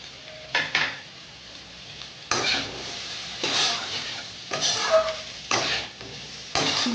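Taro pieces with slit green chillies and Kashmiri chilli powder stirred in a pan for Kochu Vetki, a spatula scraping in repeated bursts over a steady low sizzle, close and moderately loud.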